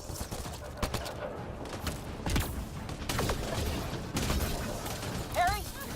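Sustained gunfire in Mass Effect Andromeda, with repeated sharp shots and bursts spread across the firefight amid combat effects and voices talking.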